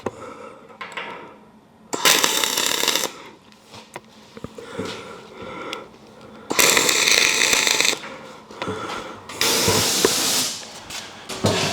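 Tack welding steel to a base plate with a Miller XMT welder running dual shield flux-core wire gives several separate bursts of crackling, sizzling arc noise, each lasting one to two seconds, close and loud with quieter shop sounds between.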